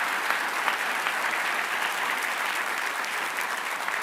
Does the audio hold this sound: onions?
no